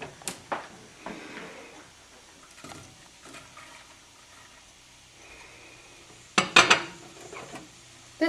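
Chopped leeks, onion, celery and garlic tumble into melted butter in a soup pot, giving a few sharp clatters and scrapes with faint sizzling between, then a louder burst of clanks near the end; no talking.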